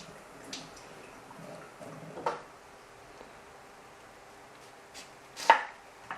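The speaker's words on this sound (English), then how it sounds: "now she's going to slice the pineapple up." A knife slicing a pineapple on a board for a Thai sweet and sour chicken dish, heard as a few faint, scattered chopping taps and thuds in a quiet kitchen.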